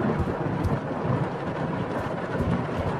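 A thunderstorm in the horror video game Suffer the Night rumbles as a dense, continuous wash of rain and low thunder, steady and loud throughout with no distinct breaks and no talking.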